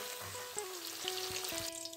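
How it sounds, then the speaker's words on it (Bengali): Paneer sizzles and crackles in hot oil, a continuous frying hiss with faint clicks, no voices. "হালকা করে পনির আমি ভেজে নিয়েছি"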